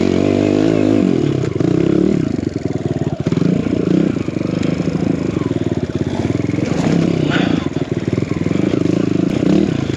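An enduro motorcycle on sticky tires rides a trail climb, its engine loud and close, revving and surging continuously with clattering over rough ground; faint voices briefly mixed in.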